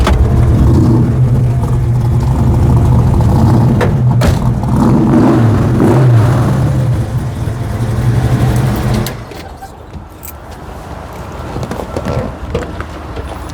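A hot rod V8 with 3-inch Flowmaster exhaust and Hedman headers burbles loudly up close, with rumbling revs rising and falling before it quiets as wind buffets the microphone.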